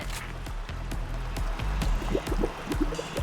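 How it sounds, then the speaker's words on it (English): Muriatic acid poured in the video game Payday 3, heard as a steady liquid gurgle and drip with repeated low thumps keeping a regular beat underneath, moderately loud and without talk. "Pour in some of that muriatic acid."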